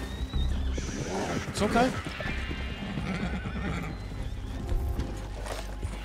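Horse in the open-world western game Red Dead Redemption 2 letting out a loud distressed whinny with hoof clops, close by, as someone speaks briefly over it.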